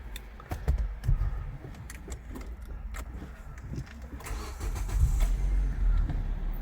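A Nissan Almera Classic being started, with clicks and rattles followed by the engine cranking and catching into a low running rumble that grows louder toward the end.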